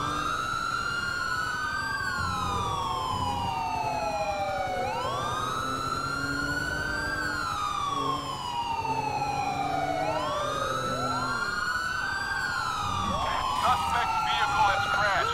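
Several police car sirens from a 2016 Ford Taurus in GTA 5 wail together with the Whelen Liberty tone, overlapping rising and falling sweeps, loud and continuous with a yelp burst near the end, speech mixed faintly underneath.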